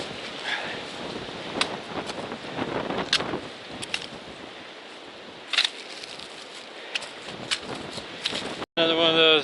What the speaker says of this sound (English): Yesterday we had warm wind, today we have cold wind.